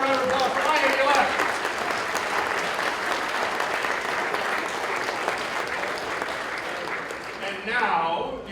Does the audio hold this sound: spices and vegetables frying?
no